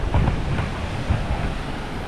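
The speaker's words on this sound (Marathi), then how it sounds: "या साईडला कुंभे वॉटरफॉल पाणी पडतंय खाली" Water at Kumbhe waterfall rushes and crashes down, a broad, steady roar with low rumbling surges, heard alone and fairly close.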